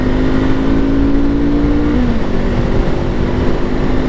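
A Honda SCL500 motorcycle engine runs in a steady, close drone under wind rush while riding, with the pitch sliding lower about halfway through and then holding a rougher, lower tone.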